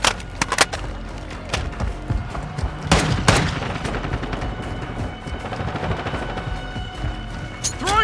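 Rapid gunfire in Call of Duty Modern Warfare's Warzone mode, with loud sharp shots and machine-gun bursts rattling close throughout, including heavier cracks partway through.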